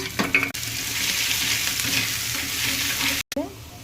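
Onion, chilli and garlic fry in oil on a hot pan, a steady close hiss of sizzling that holds almost unbroken for several seconds, with a brief stir near the start and a short gap toward the end.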